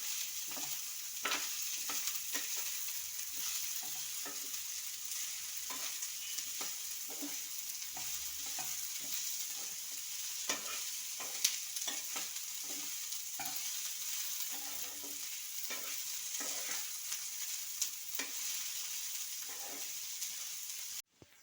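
Broad beans and egg podimas are sautéed in a pan with a continuous soft sizzle, broken by repeated scraping and stirring strokes of a spatula at an irregular rhythm, close by and without talk.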